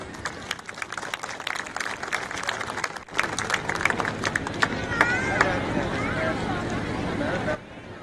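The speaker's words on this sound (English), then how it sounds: "Please welcome our talented performers onto the stage with a big round of applause" An audience at the Air Force School Sulur annual day applauds to welcome performers onto the stage. Scattered claps mix with crowd chatter and shuffling, the clapping growing denser midway before cutting off sharply near the end.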